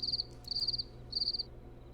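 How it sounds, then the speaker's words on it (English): Crickets chirp in the video game Black Desert Online, three bright, pulsing trills at a steady rhythm over a soft, low ambient hum, with no voices. "Do you hear the crickets in the game?"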